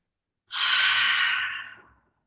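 A single long, close exhale during a yoga flow, a soft airy breath that swells quickly and fades out over about a second and a half.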